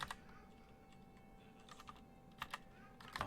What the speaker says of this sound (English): when you first start typing here, it comes up with a list of stuff